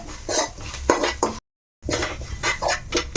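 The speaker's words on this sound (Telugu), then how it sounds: "ఇప్పుడు ఇది మనం ఇందులో మిక్స్ చేసేసుకోవాలి" Potato paratha filling being stirred and mixed in a metal pan: repeated scraping and clinking strokes of a utensil, close and clear, with a brief silent gap in the middle and no talk.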